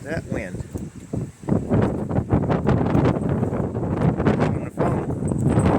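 Gusty outdoor wind buffets and rumbles against the microphone near a farm brooder room, surging in uneven bursts while someone talks over it.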